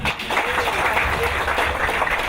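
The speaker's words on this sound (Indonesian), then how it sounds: "Kita beri tepuk tangan." A crowd at an Indonesian village award ceremony in Aceh Tengah bursts into applause, a dense patter of clapping hands with voices mixed in.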